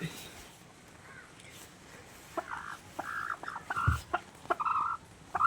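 A chicken clucks and squawks in a series of short, close calls that grow busier and louder toward the end, with a person speaking nearby.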